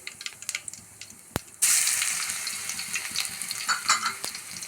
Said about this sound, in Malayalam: ഉരുളക്കിഴങ്ങിൻ്റെ കറി വെക്കാനായിട്ട് ചീഞ്ചട്ടി വെച്ചിട്ട് അതിൽ ഒന്നര ടേബിൾ സ്പൂൺ ഓയിൽ വിത്തിൻ്റെ പിന്നെ അതിലൊരു അര സ്പൂൺ ജീരകം ഇഞ്ചി വെളുത്തുള്ളി പേസ്റ്റ്